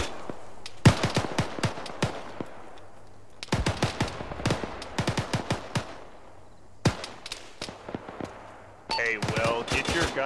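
Gunfire in the desert in the game Arma 3, aimed at a wall: several separated bursts of rapid, sharp shots with short pauses between them, fairly close and punchy, and a brief harsher noise near the end.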